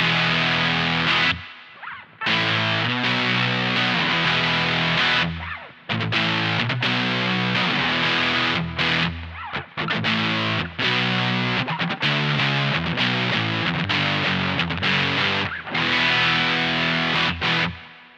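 Distorted electric guitar chords and riffs ring out loudly with reverb, played in bursts with brief pauses between phrases, through an Analog Alien Rumble Seat pedal.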